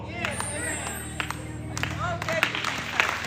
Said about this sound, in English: Clap hands for Jesus